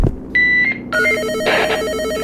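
A telephone rings repeatedly in a police special-operations video game, its electronic trilling tones sounding loud and close over a steady game background hum, with no one talking.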